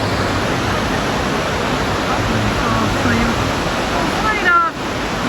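Waterfall pouring into a pool, a loud, constant roaring rush that fills the whole clip, with a brief dip near the end and faint chirping in the background.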